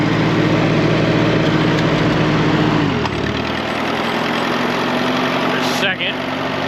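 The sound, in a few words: tractor engine running in gear, problem in left final drive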